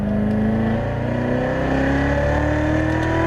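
A Corvette C7 Z06 race car accelerates hard on a track, its engine note rising steadily in a loud, sustained close-up drone.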